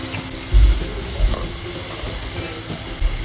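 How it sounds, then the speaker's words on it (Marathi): Water pours steadily into a pan for a sweet and sour raw-mango curry, a continuous close splashing and gurgling with a few louder sloshes, no voices. "पाणी घालायचं आहे"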